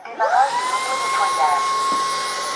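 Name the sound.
Dreame H14 Pro wet vacuum running its self-cleaning cycle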